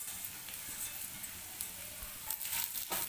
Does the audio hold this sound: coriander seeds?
yes